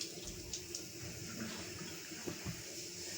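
Tap water runs steadily into a kitchen sink while dishes are washed, a continuous faint splash with a few light clinks and knocks, no voices.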